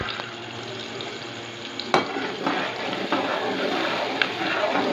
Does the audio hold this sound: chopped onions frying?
yes